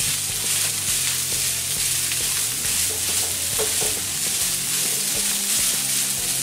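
Peas sizzle in a frying pan for pav bhaji while a spoon scrapes and stirs them in uneven strokes, the frying hiss steady and close throughout.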